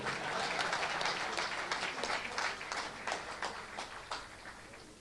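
Applause from a poetry-reading audience, a lively patter of many hands with distinct claps standing out, moderately faint and fairly steady over several seconds.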